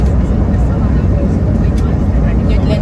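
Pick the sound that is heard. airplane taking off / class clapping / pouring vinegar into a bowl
airplane taking off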